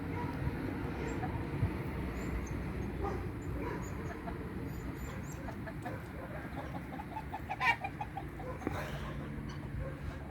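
Chickens cluck softly nearby among general farmyard noise, with occasional short sharp sounds and faint voices in the background.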